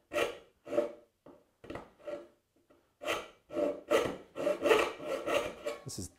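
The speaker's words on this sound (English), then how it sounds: "You can do the same thing with a short saw like this, but again, rather than the nibbling," A short hand saw cuts wood in push strokes, about a dozen rasping strokes heard up close: spaced apart at first, then coming faster and louder.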